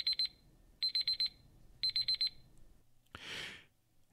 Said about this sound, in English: And you hear the beep, beep, beep.